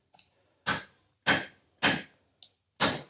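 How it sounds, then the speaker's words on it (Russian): Five sharp metallic strikes of a hammer on copper, ringing out one after another at roughly half-second intervals, close and loud, with a lighter tap before the last blow. "Ты сейчас будешь бить молотком."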